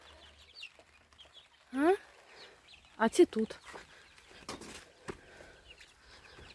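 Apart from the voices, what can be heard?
chicks squabbling in their run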